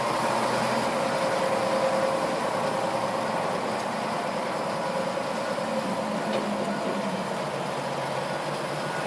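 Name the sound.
Caterpillar 966D wheel loader engine while lifting its bucket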